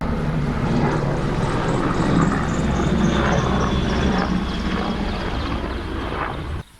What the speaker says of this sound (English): a helicopter flies by